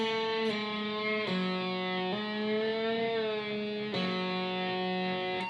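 Slow electric guitar lick from a solo, with bent and pulled-off notes that slide between pitches, played alone at moderate level with a clean, sustained tone.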